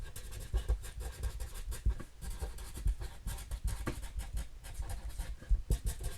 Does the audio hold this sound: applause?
no